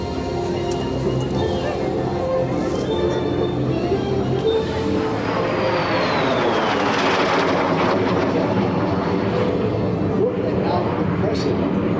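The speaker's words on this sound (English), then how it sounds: "the T-33, like the one you see flying today." A T-33 Shooting Star jet flies past at an air show, a loud, sustained engine roar that swells and shifts in pitch over about twelve seconds, with a commentator talking over it through the loudspeakers.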